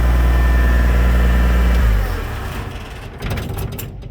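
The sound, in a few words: antique tractor engine dieseling while winding down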